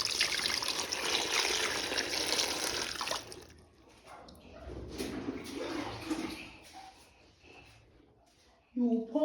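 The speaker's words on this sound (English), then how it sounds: "You will pour enough water to cover the corn." Water pours steadily in a loud splashing stream into a pot of fresh corn on the cob for a few seconds, then trickles off, followed by quieter handling sounds and a brief voice.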